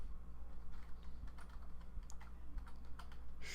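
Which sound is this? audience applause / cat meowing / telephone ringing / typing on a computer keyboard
typing on a computer keyboard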